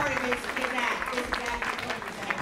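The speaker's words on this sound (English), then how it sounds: "How about a nice round of applause" A comedy show crowd claps in a steady patter while voices talk over the applause.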